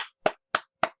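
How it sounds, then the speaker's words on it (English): A single listener gives a few slow, deliberate hand claps during an interview commentary, four crisp claps evenly spaced and isolated, with silence between them. "Another round of applause again."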